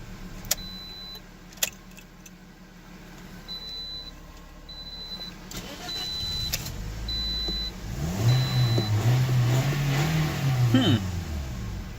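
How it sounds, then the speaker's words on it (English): A 2009 Toyota Corolla with a long-crank, hot-restart fault starts again and settles into an uneven idle. A low engine drone rises and wavers after some clicks and faint beeps, with brief background voices. "We'll turn off the vehicle and we'll see what happened on restart."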